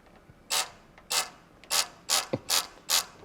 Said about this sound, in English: Can't fit my normal torque wrench in there, so I'm using the electric one.